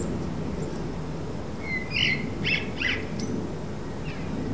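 Seagulls let out a few short, bright calls in a quick cluster midway, rising over a low, steady background rumble.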